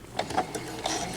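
Brief, quiet whirring and ticking of a sewing machine stitching a quarter-inch seam on a quilt block, a few soft mechanical pulses.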